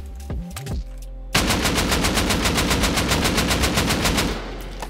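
Rapid automatic turret fire in a video game raid, a loud sustained burst of evenly spaced shots lasting about three seconds after a brief lull, with no talking over it.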